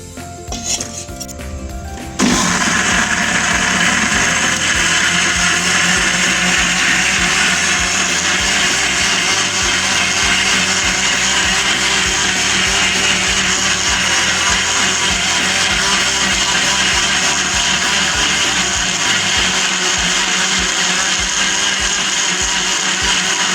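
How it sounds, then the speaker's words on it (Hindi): Kitchen blender grinding beetroot with sugar in a jug, a loud steady whir that starts abruptly after a couple of seconds of light handling clatter and runs unbroken to the end. "ये सारी चीज़ें मैं जग में डाल के तो ग्राइंड कर लेती हूँ"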